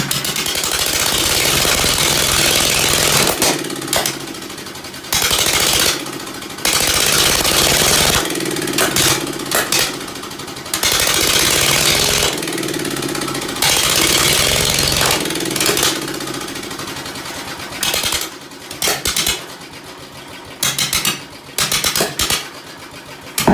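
An old Ford engine kept alive on shots of starter fluid runs roughly, its loud rattling chug repeatedly cutting out and catching again in uneven bursts.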